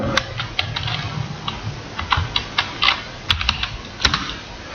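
Fingers type on a computer keyboard while entering stock items in Tally Prime accounting software, producing close, irregular bursts of sharp key clicks over a low background murmur, with no talking.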